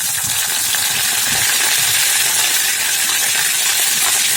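Cumin seeds and curry leaves frying in hot oil in a home kitchen, a loud, steady crackling sizzle with fine popping and hiss throughout, no voices over it.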